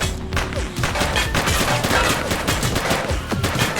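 Rapid gunfire in a gang shootout from The Precinct video game, dense overlapping bursts of shots with thuds, loud and close, continuing throughout.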